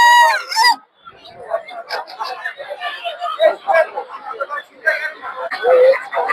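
At the Tongi bazaar poultry market, native chickens cluck and a bird gives a short crow at the start, all nearly buried under constant crowd chatter and nearby talking.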